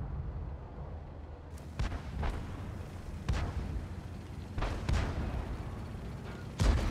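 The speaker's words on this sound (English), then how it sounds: "A few shots going out at the Skoda." Tank guns fire in World of Tanks at an enemy Skoda tank. Several sharp booming shots crack out at irregular intervals over a low, rumbling battlefield background, with no talking.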